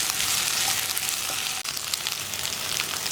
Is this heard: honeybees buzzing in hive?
no